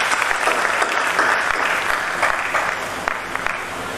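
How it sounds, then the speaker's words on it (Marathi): Steady applause from an audience at a foundation gathering, many hands clapping densely at a fairly loud, even level, with no voices above it. "आपणा सर्वांच्या तर्फे पहिल्यांदा किंवा टाळ्या वाजवून त्यांचं अभिनंदन"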